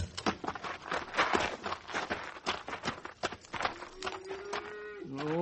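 A cattle herd on the open range moos and lows repeatedly, overlapping calls mixed with hoof clatter and movement, close and fairly loud, ending with a long drawn-out moo.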